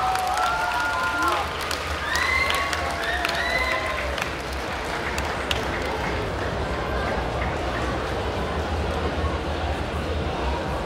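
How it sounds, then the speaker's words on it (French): An audience at a manga convention cosplay show applauds a cosplayer with loud, sustained clapping and some cheering and whistles, while a voice speaks over the crowd. "Et là, on l'applaudit encore bien fort!"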